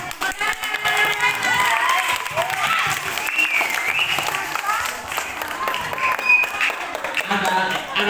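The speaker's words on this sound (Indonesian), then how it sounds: "Tepuk tangan" An Indonesian gathering applauds Pak Rama, an environmental activist for an orphan foundation; dense, lively clapping from a crowd fills the space, with scattered cheers and voices mixed in throughout.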